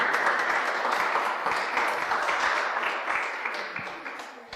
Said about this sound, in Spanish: Estaba esperando los aplausos.